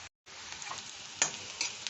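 Chicken pieces for achari murgh fry in a pan with a steady broad sizzle, cut by a brief dropout near the start and a couple of louder crackling bursts as they shift; close and moderately quiet, with no talking.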